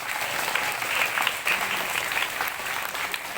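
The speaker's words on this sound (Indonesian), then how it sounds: "Tepuk tangan dong buat bu guru" Schoolchildren at a primary school storytelling session applaud their teacher, a steady, loud wash of many small hands clapping that continues unbroken for the whole stretch.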